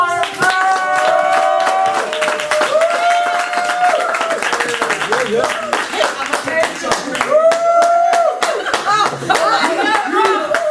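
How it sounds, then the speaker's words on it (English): Clapping from the audience at an awards ceremony as a keynote speaker is welcomed, scattered hand claps under loud music and voices, with some laughter mixed in. "Give her a round of applause."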